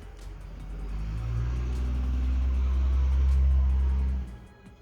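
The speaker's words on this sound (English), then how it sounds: "That wasn't even a mail truck. That was just a regular truck. Like, why are you so loud?" A loud truck passes by outside, a deep rumbling engine swelling over a few seconds and then dropping away, heard alone without talk.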